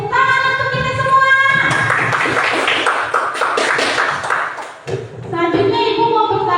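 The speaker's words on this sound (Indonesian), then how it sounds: "Tepuk tangan untuk kita semua" A classroom of pupils clapping together for a few seconds, a dense rhythmic patter of hands that stops abruptly, with music playing before and after the clapping.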